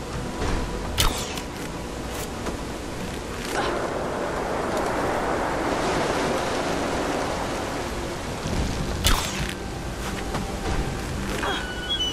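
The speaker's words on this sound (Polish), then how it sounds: "woda wycieka." Water leaking in Rise of the Tomb Raider, a steady broadband rush and spatter like pouring rain, joined by occasional sharp knocks and thuds, with no talking.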